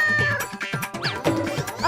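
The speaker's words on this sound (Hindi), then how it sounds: "कहाँ से आ रही थी बिल्ली की आवाज?" A cat meows loudly and close, a few drawn-out rising and falling cries in quick succession within under two seconds.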